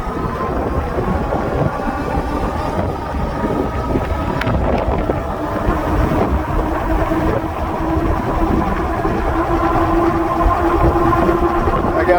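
A Haoqi Cheetah dual-battery full-suspension e-bike runs at top speed on throttle alone. Strong wind rush buffets the microphone over a steady motor hum that rises in pitch toward the end, loud and continuous throughout.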